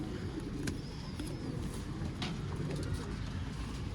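Pigeons, an old-line blue-shaded breed kept for sale in Bangalore, coo softly and steadily at close range amid a dense, continuous background of other birds and low ambient noise, with no clear talk.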